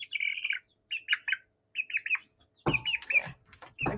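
A big hawk-like bird repeats sharp, high chirping calls in quick clusters, loud and close, with a burst of rustling and a thump partway through.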